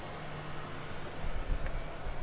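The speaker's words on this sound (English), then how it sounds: "And here's the spindle, it's warming up." An AXYZ CNC router spindle warms up at 9,000 RPM, giving a steady, continuous high whine over a broad hum with a few faint low bumps, heard up close with no talking.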